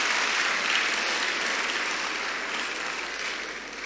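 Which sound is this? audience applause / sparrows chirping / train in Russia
audience applause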